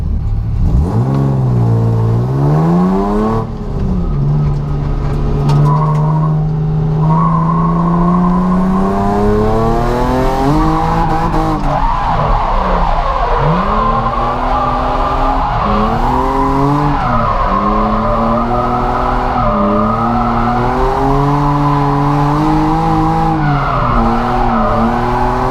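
Drift car with a two-way differential sliding around the Three Sisters Circuit during a Driftcup competition, engine revving and wailing continuously with rising and falling pitch and tire squeal, loud and close throughout.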